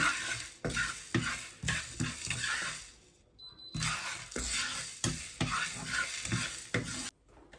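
Spices including cinnamon dry-roasted in a pan for Padang rendang, with repeated scraping and stirring strokes and a light rattling sizzle, brief pauses between strokes and one short gap of near silence.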